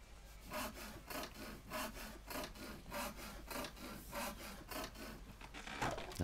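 A hand saw cuts through wood inside the Sherlock Holmes: The Devil's Daughter game, with steady back-and-forth rasping strokes at an even rhythm. The sound is close and moderately quiet, and no one speaks over it.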